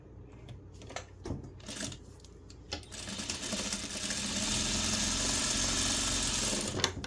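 A sewing machine stitches pieced quilt fabric over a Pellon 820 quilter's grid. A few light handling clicks come first, then a close, steady whirring hum of stitching runs without pause to the end.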